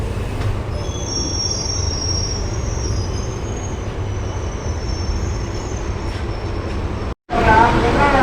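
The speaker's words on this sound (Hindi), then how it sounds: "तीस सेकेंड रुकने के बाद हमारी ट्रेन यहाँ से चल पड़ी है" A passenger train pulls away from a station, a loud steady rumble with high wheel squeal, briefly cutting out before clattering resumes.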